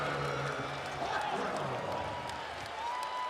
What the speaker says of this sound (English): And this Auburn crowd loving every minute of it.